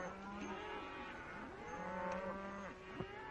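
Cattle on a ranch in a 1937 Western film, several low drawn-out moos overlapping one another, moderately close against a faint background.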